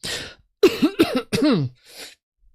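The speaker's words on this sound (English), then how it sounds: "I still haven't been able to shift this cough" One person coughs and clears their throat in a few short, close, rough bursts, then a softer final cough, with no talk.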